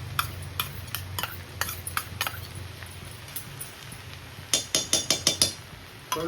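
A metal spoon stirs and scrapes egg fried rice with green chilli and tomato sauce in a pan, giving scattered clinks, then a quick run of sharp taps near the end over a low kitchen hum.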